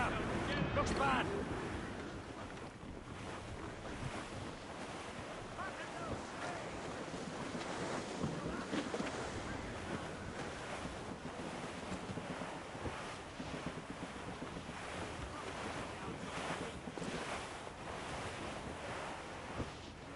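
Stormy sea in Assassin's Creed Rogue: a continuous roar of crashing waves and gusting wind around a sailing ship, loud and dense throughout with no pauses.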